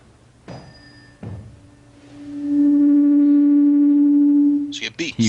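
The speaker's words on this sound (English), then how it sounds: "When two frequencies are very close together, they add rhythmically, both constructively and destructively. The result is called beats." A cold tuning fork and a hot tuning fork sound together as a steady pure tone that pulses slowly in beats, after brief separate strikes and before a voice cuts in at the end.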